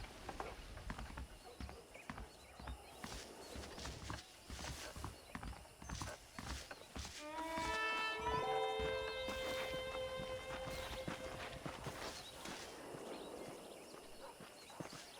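Horse hooves clip-clop steadily at a walking pace in Red Dead Redemption, with a horse whinnying briefly midway, moderately close against outdoor ambience.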